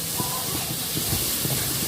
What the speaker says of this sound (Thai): น้ำเดือดแล้วเราก็จะใส่พริกลงไปเลย